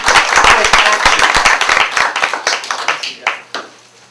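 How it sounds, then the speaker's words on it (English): Applause from a small crowd at a community branch meeting, with loud individual claps at first that thin out into scattered, separate claps before fading away. "So, give a round of applause for that quick action."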